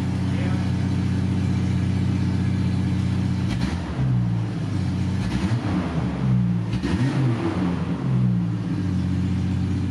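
A car engine with a newly clamped-on exhaust idles with a deep, bassy drone, then revs up several times in close, rising and falling swells before settling back to idle.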